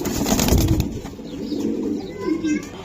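Racing pigeons coo close by in low, soft burbling calls, repeated through a short stretch with faint voices around them.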